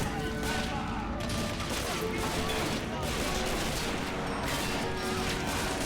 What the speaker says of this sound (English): Just keep repeat firing, like a repeat prescription of pain.